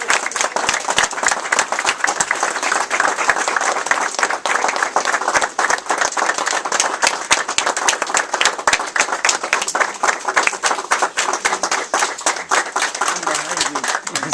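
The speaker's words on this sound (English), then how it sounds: "a very warm round of applause" A room full of people applauds steadily and warmly, dense clapping sustained for the whole stretch with faint voices mixed in.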